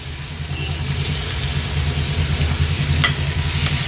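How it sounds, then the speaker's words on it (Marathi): Turmeric stirred into onions over a high flame for a black pepper prawn masala, a loud, steady sizzle running throughout with a low stove rumble and a brief scrape of stirring near the end, no voices. "आणि हाय फ्लेमवर हळद छान कांद्यामध्ये मिक्स करून घेऊया"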